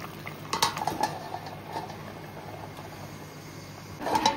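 Fish curry gravy simmers on a gas stove with a soft, steady bubbling and a few light clinks of utensils, fairly quiet throughout.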